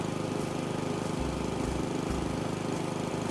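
Lawn mower engine droning steadily in the House Flipper video game, a continuous mechanical hum with a slight pulsing low rumble, alone without voices.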